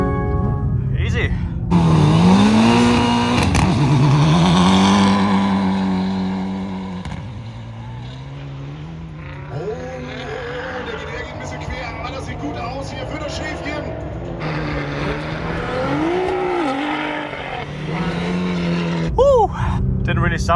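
Race cars of over 1000 horsepower running head to head at a racing event, engines revving and roaring with rising and falling pitch, loud and close, while people talk and shout over the noise.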